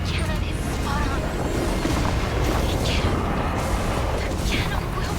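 Cannon fire in the hunting video game Wild Hearts, with booming blasts over a dense, continuous wash of battle noise and game effects, while a voice talks throughout.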